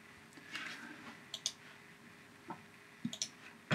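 Mouse clicks in Quartz Composer on a computer, a few sharp close clicks scattered through quiet room tone, including a quick pair near the end.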